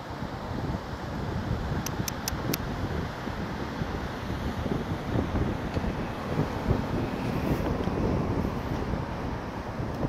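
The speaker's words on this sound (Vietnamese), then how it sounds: "hưởng không khí gió biển" Sea wind blows along the Bình Thuận coast, a steady, loud rush of wind buffeting the microphone over a continuous surf roar, with a few faint high ticks early on.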